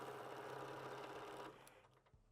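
A Bernina Q16 long arm quilting machine stitches at a steady, fast buzzing hum, close and clear, then stops abruptly, leaving a faint click and quiet room tone.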